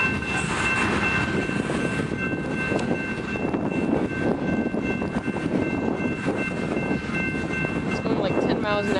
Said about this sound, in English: This train's going north on the BNSF mainline.